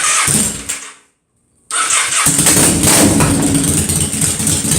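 An engine cranks on an electric starter after the choke is set, then catches and runs loudly and steadily after a brief silent gap, a motorcycle-like mid-pitched idle filling the rest.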